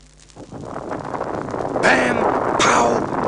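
A cartoon bomb blast in a Yogi Bear storybook record, heard as two loud broadband bursts with a rumbling roar, under a narrator's voice.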